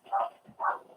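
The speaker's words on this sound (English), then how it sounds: "if you can hear the dog's outside going mad at something" A dog barks outdoors, two sharp barks about half a second apart, heard at a moderate distance over quiet surroundings.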